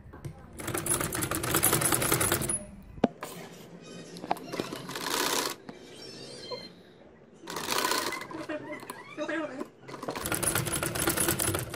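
Sewing machine running in several long loud bursts while stitching the band of a baby boy's kameez, with quieter handling and talk in between.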